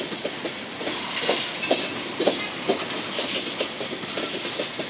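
A smoking GE diesel locomotive lugs a heavy freight train uphill out of Glendive, Montana, with a steady rumble and a regular clickety-clack of wagon wheels passing over rail joints.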